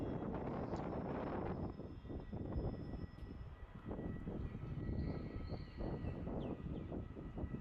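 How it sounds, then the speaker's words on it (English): A Bonza Boeing 737 MAX 8 takes off on runway 16, a low rumbling engine roar heard from a distance and roughened by gusty wind noise on the microphone. "And there's Bonza 737 MAX 8 rolling down runway 16 now."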